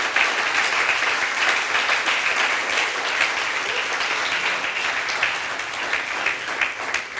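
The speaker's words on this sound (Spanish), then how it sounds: "Denle un aplauso al Señor." A church congregation gives a sustained round of applause to the Lord, a dense, steady roar of many hands clapping that carries on for several seconds with no one talking over it.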